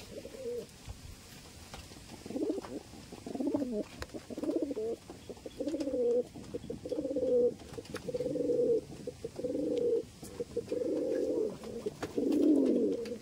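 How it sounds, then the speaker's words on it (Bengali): Small short-size pigeons cooing close by in a series of repeated rolling coos, one phrase after another with short pauses, louder toward the end. "ছোট্ট সাইজের পায়রা, শর্ট সাইজ পায়রা"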